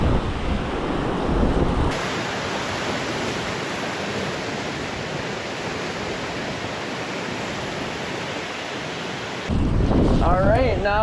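Lake Michigan surf rushes in a broad, steady wash, with heavy wind buffeting the microphone over the top.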